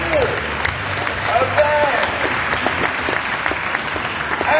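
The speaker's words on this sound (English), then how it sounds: "Please welcome to the stage, ladies and gentlemen. Round of applause." Audience applause welcomes quiz panelists to the stage at a media agency CEOs' event, a dense sustained clatter of many hands with a few brief voices and a short remark over it.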